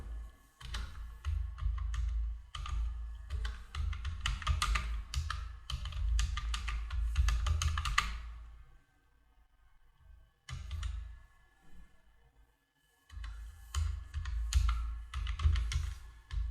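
Fast bursts of clicky typing on a computer keyboard while entering income details for a tax return, loud and close, in several runs separated by a few seconds of near silence.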